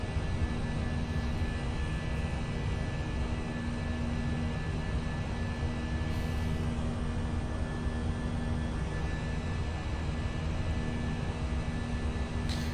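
Airbus A320 airliner in a flight simulator climbing and accelerating after takeoff, a steady, continuous engine roar with a constant hum running unbroken and fairly loud throughout, with no talk.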